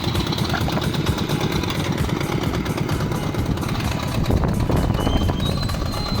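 A tricycle's motorcycle engine runs steadily throughout on a raft, a continuous low rumble at close range with no pauses.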